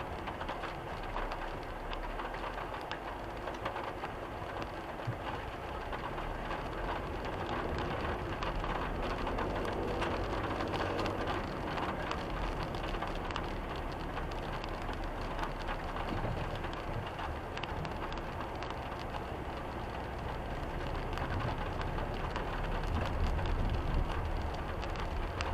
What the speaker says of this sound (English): Yeah, it's raining again.